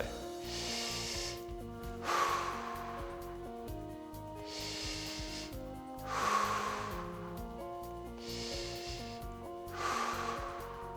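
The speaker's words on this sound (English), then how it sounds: "when I'm breathing in, I'm filling my hands up with air, and as I breathe out" Slow, deep breaths drawn in and pushed out in a steady cycle, each exhale a soft airy rush, with quiet music underneath.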